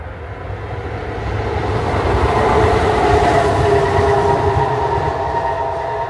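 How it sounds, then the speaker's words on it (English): Metro train passing close by, a loud steady rumble with rail squeal and rattling wheels that swells toward the middle and holds, with no voices heard. "I think that was a metro though. It wasn't a train."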